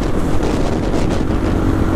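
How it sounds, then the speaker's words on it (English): Strong wind buffeting the microphone on a Yamaha TW200 motorcycle ride at an OHV area, a loud, continuous roaring rush over a low engine rumble, with no talking. "that wind kicking today."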